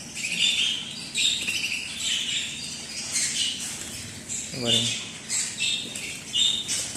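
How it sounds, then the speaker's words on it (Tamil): Lovebirds at a Dubai pet market squawk and chirp in repeated sharp bursts close by, with a brief spoken word partway through and a busy market murmur underneath. "இது பாருங்கள் இது லவ் பேர்ட் தான்."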